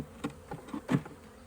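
Honey bees buzz around a newly installed nuc hive in a few short, close, uneven bursts, with no talking.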